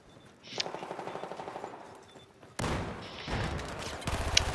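Rapid automatic gunfire in the shooter game Battlefield 4, with rattling bursts of shots, a quieter stretch, then louder, denser volleys close up near the end.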